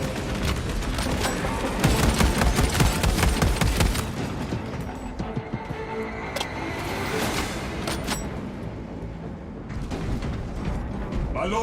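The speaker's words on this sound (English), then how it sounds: "Reloading weapon." Weapon reloading in Warhammer 40K Space Marine 2, heavy mechanical clanks and ratcheting clicks amid loud rumbling combat noise and scattered booms, with a voice briefly heard.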